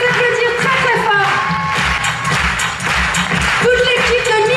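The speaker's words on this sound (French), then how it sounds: "on peut les applaudir très fort." An audience at the Miss Côte d'Or 2018 pageant applauds the volunteers, a dense, loud wash of clapping and crowd noise with music running beneath it throughout.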